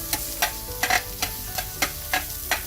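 Seasoned onions grill on a hot surface for a BBQ burger, giving a steady sizzle broken by regular scraping strokes from a spatula, roughly every third of a second, close up with no voices.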